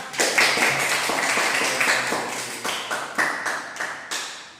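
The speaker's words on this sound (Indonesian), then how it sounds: "Tepuk tangan." A small group of students claps in a classroom after a lesson, with scattered, distinct hand claps forming an uneven rhythm rather than a dense roar.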